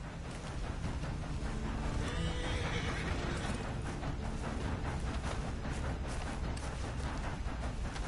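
A horse in Red Dead Redemption 2 gives a loud whinny over steady clip-clopping hooves, close and continuous, with no talk over it.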